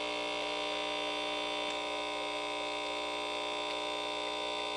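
Espresso coffee machine extracting coffee under high pressure, giving a steady, even mechanical hum with a tonal drone that runs unbroken for the whole stretch, fairly quiet and with no voices over it.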